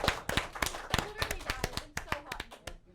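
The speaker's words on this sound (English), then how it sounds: "Big round of applause for Batwoman." A small audience claps for a Batwoman costume contestant, a sparse, uneven patter of individual hand claps that thins out toward the end, with a voice faintly under it.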